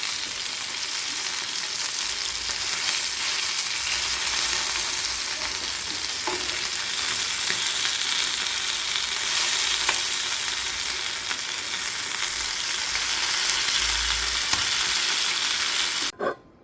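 Fish coated in masala sizzles steadily in a hot frying pan, a continuous dense crackle and hiss close up with a few faint clinks and no talking.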